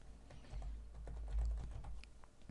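Steady typing on a computer keyboard during Excel spreadsheet work, a continuous run of close, soft key clicks with no talking.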